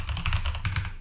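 Rapid, irregular keystrokes clatter on a computer keyboard in a quick continuous burst of close, crisp taps with no talking.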